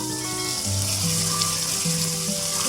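Crushed browned onion tipped into a pan of mutton korma gives a steady, loud frying sizzle with some stirring, close by and without talk.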